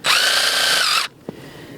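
A power drill whines steadily for about a second while boring a tap hole into a maple tree, then cuts off, followed by a brief low knock.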